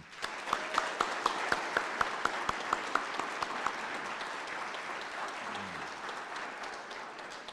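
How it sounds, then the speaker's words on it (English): Crowd applause at a school board public meeting honoring staff for 25 years of service, a few sharp individual claps standing out over a steady wash of clapping that gradually thins toward the end. "One more round of applause for them."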